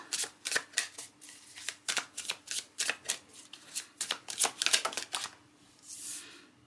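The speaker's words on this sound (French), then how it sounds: "on va aller faire le tirage de tarot" Tarot cards are shuffled by hand in a rapid run of crisp riffling flutters and snaps, close and moderately loud, with no talking.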